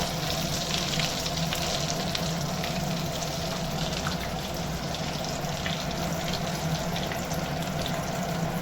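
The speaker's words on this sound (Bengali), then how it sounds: "এবার আমি এগুলো ভেজে নেব। খুব বেশি গ্যাসটা জ্বলে দেবো না, হালকা গ্যাসে ভাজবো।" Prawn chops fry in oil over a low gas flame, giving a steady, even sizzle that holds for the whole stretch without pause, with no voices over it.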